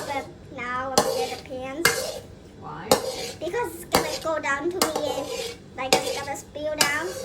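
Metal pan and utensils clank and scrape in sharp, repeated strikes roughly once a second while sausage fried rice fries, with a voice talking between the hits.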